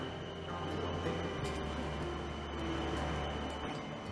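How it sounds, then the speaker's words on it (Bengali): A Bangkok BTS Skytrain arrives at a station, rumbling steadily with a deep mechanical drone and faint rattling, a continuous heavy rolling sound nearby. "এই যে আমার ট্রেন কিন্তু চলে এসেছে এই যে আসছে ট্রেন ট্রেন চলে এসেছে"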